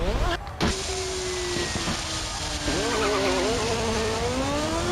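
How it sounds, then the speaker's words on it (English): An F1 race car in an older F1 video game whose engine blows up mid-race. A loud, high whining engine note drops sharply after a brief burst, then rises again in a continuous buzzing drone. "Here's a quick example of the engine actually blowing up in a race"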